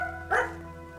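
A single short dog bark rings out near the middle, moderately loud against a faint humming background.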